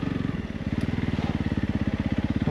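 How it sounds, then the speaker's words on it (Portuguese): A Honda CRF 300 Rally motorcycle rides off-road through sand, its engine thumping in a steady, rapid near pulse that swells as the throttle opens, with no talk over it. "Esta moto passa tudo."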